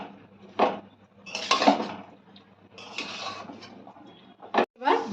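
Fresh gourd greens with salt and turmeric are stirred in a cooking pot. A utensil scrapes and knocks against the metal in several separate bursts, with short quiet gaps between the strokes.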